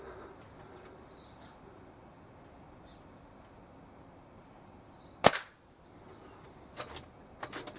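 A single sharp gunshot cracks at a shooting range, loud and sudden against quiet outdoor ambience with faint birdsong, followed by a few softer clicks and knocks.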